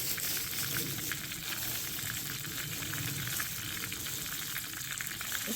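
Food fries in a pan at a desert winter truck camp while poultry seasoning is added, a dense, even sizzle that runs continuously, close by but quiet, with no one talking.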